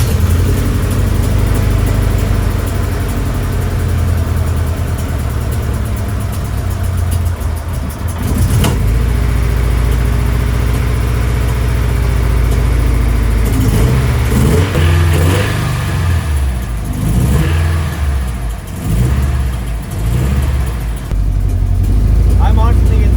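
A car engine on a Nissan S13, just fitted with new spark plugs, runs loud and close with rough revving bursts and a steady idle, while people talk over it.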